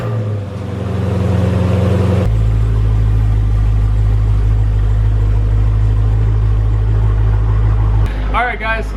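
A car engine runs steadily as it pulls into a garage, with a loud low drone that shifts and settles partway through, then a brief clatter near the end.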